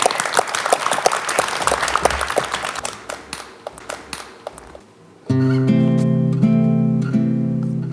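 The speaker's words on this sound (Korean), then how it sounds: "저희가 잔잔한 박수로 청해 듣도록 하겠습니다" An audience in a broadcast studio at a poetry reading applauds with steady, moderately loud group clapping that thins and fades out, after which soft sustained piano-like music begins and continues alone.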